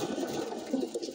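Pigeons coo softly in a loft cage holding male birds, a few low burbling calls rising and falling close by with no talk.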